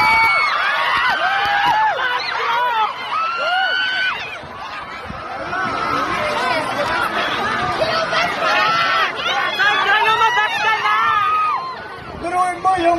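High-pitched screaming and shrieking from a crowd of young women at a political rally in Isabela, dense and continuous, with loud cries rising and falling over a constant babble for the whole stretch.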